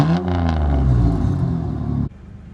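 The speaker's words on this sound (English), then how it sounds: "Let me give it a couple revs." A Ford Ranger pickup engine roars loudly with a deep, throaty exhaust rumble, the revs rising and falling before dropping abruptly back toward idle.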